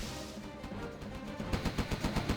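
A minigunner fires in C&C Generals Zero Hour, heard as a rapid, steady stream of machine-gun shots that grows more distinct and rhythmic toward the end, sitting under a dense battle backdrop.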